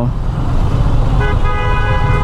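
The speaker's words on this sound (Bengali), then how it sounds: "অযথা হর্ন বাজানো" A vehicle horn sounds a sustained, loud tone in the second half, over a dense rumble of city road traffic.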